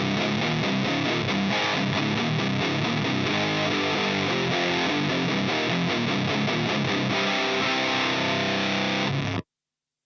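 An electric guitar played through a Plasma Pedal distortion cranked up roars loud and dense with buzzing sustained chords and riffs, continuous for about nine seconds before cutting off abruptly.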